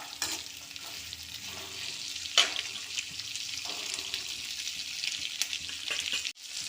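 Dried chillies roasting on low heat in a pan for Tamil-style raw mango chutney give a steady soft sizzle with light scraping and stirring, faint background and no talking.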